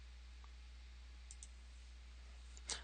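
A few quiet computer mouse clicks on a Windows PC, single and paired taps spaced apart against a low steady hum, with no talking.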